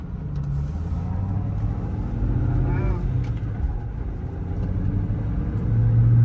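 A 1996 Ford Mustang SVT Cobra with a five-speed manual, heard from inside while driving, holds a steady low engine rumble that swells a little near the end as people talk over it.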